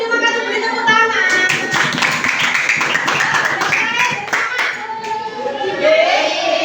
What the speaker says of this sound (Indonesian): Terima kasih, beri tepuk tangan.